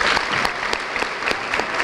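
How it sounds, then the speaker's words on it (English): Audience at a middle school bridging ceremony bursts into loud, dense applause, many hands clapping steadily and close without a break, no voices standing out. "Let's give them a round of applause."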